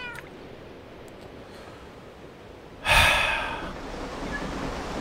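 A cat meows once in a Minecraft game, a single loud near cry rising out of steady rain-like background hiss.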